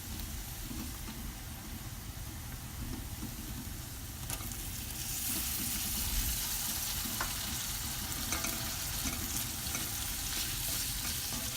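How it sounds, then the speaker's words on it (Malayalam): Chopped ripe tomato sautéing in a pan for egg mughlai, a steady sizzle and fry with occasional stirring scrapes, getting brighter and louder midway, close up and with no talk. "ഇനി അതിലേക്ക് ഒരു വലിയ തക്കാളി, നല്ല പഴുത്ത തക്കാളി കട്ട് ചെയ്തത് അതിലേക്ക് ഇടുകയാണ്."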